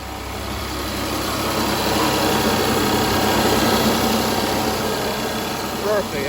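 A rebuilt 2017 Infiniti Q50 3.0T V6 runs steadily at idle, a close, even engine drone that holds without change throughout, with no voices.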